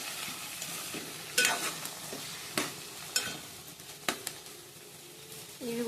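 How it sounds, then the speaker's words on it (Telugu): Yellow cucumber curry stirred in a pan, the spoon scraping in a few sharp, separate strokes over a quiet background sizzle, with a brief tap near the end. "ఇప్పుడు కూరను ఒకసారి కలిపేసుకోవాలండి."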